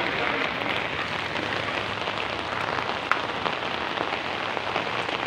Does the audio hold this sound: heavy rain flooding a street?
yes